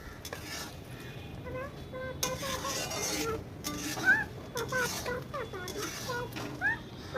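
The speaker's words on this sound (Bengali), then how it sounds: "এবার ভালো করে কষিয়ে নেব" A curry is stirred and sautéed in a pan, with scraping spoon strokes and soft clinks against the metal over a light sizzle, while birds chirp in the background of a village setting.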